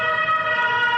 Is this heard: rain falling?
no